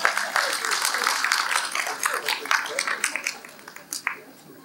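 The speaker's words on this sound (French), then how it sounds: "Applaudissons notre bien-aimé." A church congregation breaks into dense, steady applause that stays close and lively for several seconds, then thins into scattered claps near the end.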